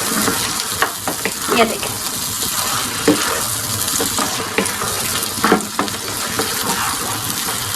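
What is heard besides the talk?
mutton karahi being stir-fried (bhunai)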